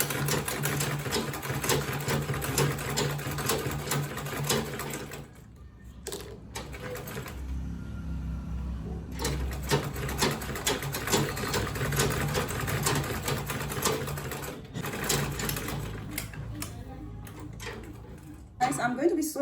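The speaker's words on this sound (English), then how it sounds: "I'm just going to be sewing at half an inch stitch length." A sewing machine stitches a quilted tote bag at a half-inch stitch length. Rapid, close mechanical stitching runs in long bursts with a pause partway through, under faint background sounds.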